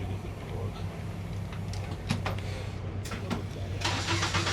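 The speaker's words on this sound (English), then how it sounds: "Let's get her started up. Start the car." A race car engine cranking and starting in the pits before an endurance race, sharp bursts of starter and ignition over a low rumbling idle, with a brief rev near the end.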